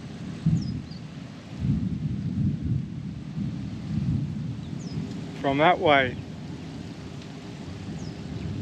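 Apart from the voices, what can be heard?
distant thunder of an approaching storm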